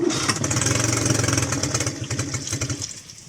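Mercury 9.9 outboard motor with an automatic choke and trouble starting, heard close as it sputters and catches into a rough, pulsing run that fades toward the end.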